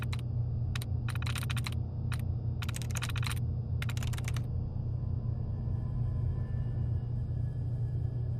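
Keys clack on a computer terminal keyboard in Fallout 4, bursts of quick typing over a steady low electronic hum, then the typing stops and the hum continues alone.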